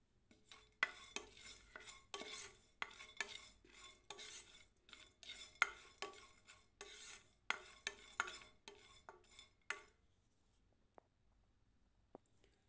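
Chopped almonds, about ten to twelve, dry-roasting in a pan for a homemade qorma masala, stirred with a spoon that scrapes and clinks in a busy rhythm for nearly ten seconds before it quiets to a couple of faint taps.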